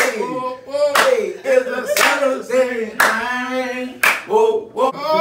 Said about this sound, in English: Oh, that's some good old church claps